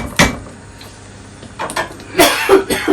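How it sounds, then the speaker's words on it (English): Spoon stirring tikka masala sauce in a pan as it comes up to the boil: a few sharp clinks and scrapes, close and fairly loud, scattered across a few seconds. "So we're just going to give this another stir"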